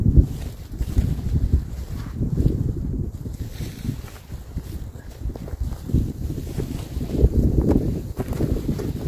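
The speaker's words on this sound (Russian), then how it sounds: "Ветер сильный" Strong wind batters a winter campsite, roaring as continuous, gusty rumble against the microphone and rising and falling in loudness throughout.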